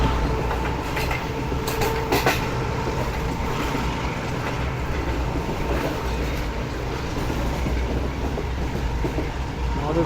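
Pak Business Express train running on Pakistan's Main Line 1 toward Multan, a steady loud rumble of wheels and carriages with faint clicking rail joints throughout, continuous and close.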